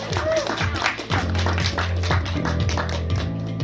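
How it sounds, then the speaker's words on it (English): An audience at a series cast introduction claps for actress Isabelle Daza, scattered claps rising into applause over a low background hum, with talking heard through it. "A round of applause, please, for Isabelle Daza as Sheila"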